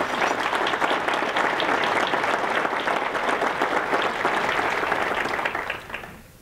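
Applause fills a large hall after a Leduc mayor's State of the City address, honouring the Leduc Regional Chamber of Commerce: a dense, steady crowd ovation sustained for several seconds before tapering off at the end.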